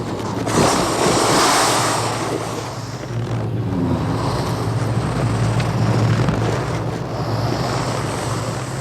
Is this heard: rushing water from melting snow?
yes